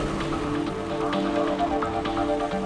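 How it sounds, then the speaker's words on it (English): Rain falls steadily onto a surface, a dense pattering of close drops in a continuous shower, with no voices. "Over time, this rained back down onto the cooling Earth."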